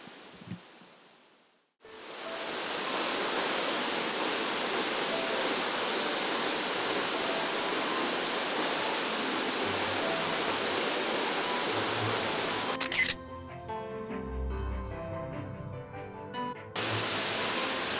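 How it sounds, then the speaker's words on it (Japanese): A loud, steady roar of Tanashita Fudo Falls in Shibukawa, Gunma, Japan fills the scene, broad and continuous; near the end some faint lower sounds mix in beneath it. "滝の音が大きくなってきました"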